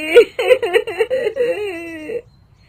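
A woman sobs and wails at night, a single close voice in a series of rising and falling crying bursts lasting about two seconds before stopping into quiet.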